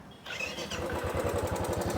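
A Royal Enfield Classic 350 motorcycle engine starts up and idles with a rapid, even ticking rhythm riding on the exhaust thump, close and fairly loud.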